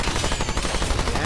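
Rapid gunfire in the video game Remnant 2, a dense, loud burst of repeated shots filling the short moment without pause.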